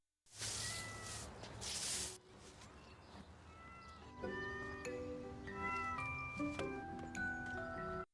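A cute cat on school grounds meows in a few drawn-out, wavering cries, with soft melodic tones rising behind it.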